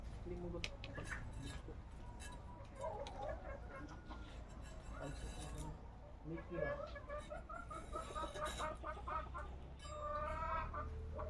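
Small chickens cluck and peep in scattered bursts close by, fairly quiet, with a low murmur of voices and background noise.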